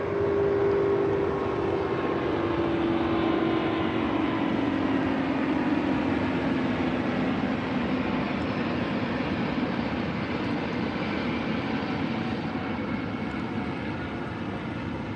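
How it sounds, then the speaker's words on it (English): A large airplane passes overhead, a loud sustained roar with a slowly falling engine tone that fills the air and eases off gradually. "that plane looked so amazing. It was so big and sleek looking"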